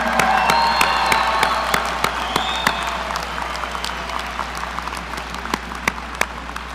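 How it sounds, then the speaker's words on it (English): Sustained applause from a large graduation crowd at a spring 2024 commencement ceremony, broad and steady with a few cheers and sharp claps standing out, gradually tapering across the stretch with no talk. "Keep that round of applause going for Mr."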